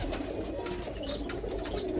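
Pigeons coo steadily inside a loft where birds are kept for high-flying, a continuous low murmuring layer close by with no voices over it.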